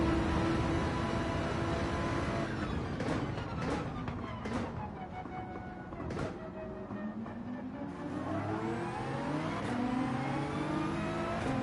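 Race car engines in Gran Turismo 7 during an online manufacturer cup qualifying race, several cars droning and shifting pitch together down a straight and into a hairpin, loud and steady throughout with no talk.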